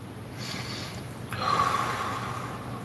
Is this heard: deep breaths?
yes